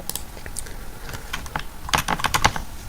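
Rapid typing on a computer keyboard, close and crisp, with irregular bursts of key clicks that cluster densely toward the end of the short stretch, with no voices.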